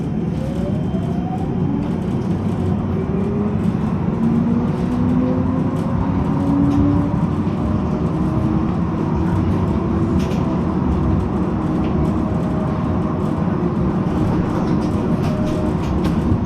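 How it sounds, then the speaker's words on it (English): An Amsterdam Tram 2 rolls around a city square, a steady low rumble of wheels and motor with drawn-out metallic squeals from the rails rising and gliding above it, continuous and close throughout. "trams here travel anti-clockwise around the square"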